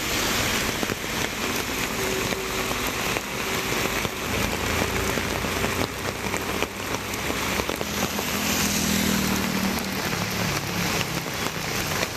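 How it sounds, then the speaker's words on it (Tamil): Heavy rain pours down in Tamil Nadu, a dense, loud, unbroken hiss of downpour on surfaces that holds steady throughout with no talking. "1 மணி நேரத்திற்கு மேலாக கனமழை பெய்தது"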